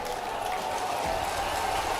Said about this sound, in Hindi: ताली जोर से बजे।